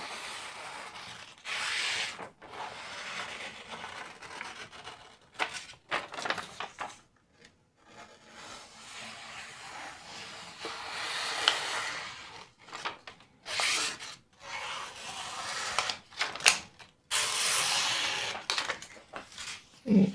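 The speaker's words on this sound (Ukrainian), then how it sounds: "протиранням ножа і папером перевіримо, як ріже" Freshly sharpened kitchen knife, worked on diamond plates and ruby ceramic, slicing through paper and being wiped, giving repeated close dry rasping and scraping strokes with short pauses between them.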